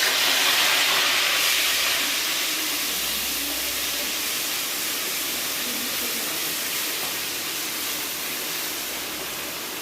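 Onion paste drops into hot oil already holding mustard seeds and cumin for a chole curry, giving a loud, broad hissing sizzle that starts strongest and slowly eases over several seconds.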